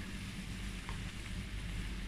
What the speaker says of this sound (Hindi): अब इसके अंदर मैंने फ्राइज ऐड किया है ऑयल के अंदर ना, मैं इसको फ्राई करूँगी।